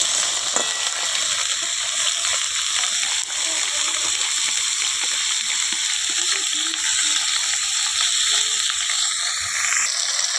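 Flat beans, potato and eggplant with a whole tomato sizzle steadily in a hot pan as they are stirred, a loud continuous frying hiss with occasional soft scrapes and shifts underneath.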